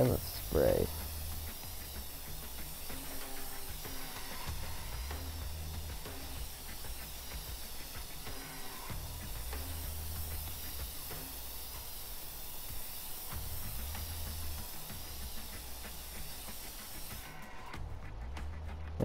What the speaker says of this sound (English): Let's shake and then let's spray.